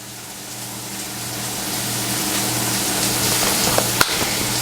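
Blueberries for a compote cooking in a pan: a steady bubbling sizzle that builds slowly, with a small clink of a utensil near the end, close and alone without talk.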